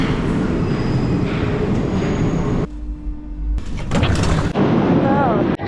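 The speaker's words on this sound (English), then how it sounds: "The metro, the metro!" A Paris metro train rumbles loudly through the station, with a deep low roar that drops out and then returns with sharp metallic rattles and a rising whine, while a voice speaks over it.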